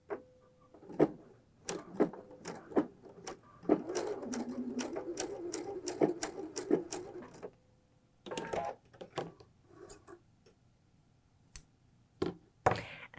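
A sewing machine runs a straight stitch across the short ends of fold-over elastic, in bursts of rapid clattering ticks with brief pauses between runs, close and clear with no talk.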